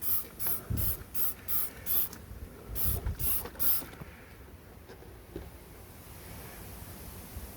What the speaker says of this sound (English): Now this other spray is another disinfectant, but you just spray.